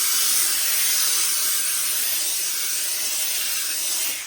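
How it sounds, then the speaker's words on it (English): A steamer hisses a loud, steady jet of steam into the inside of a Borsalino trilby felt hat during restoration, continuous for about four seconds and fading slightly at the end, with no talking. "let's pop a little bit of steam in there, freshen up the inside"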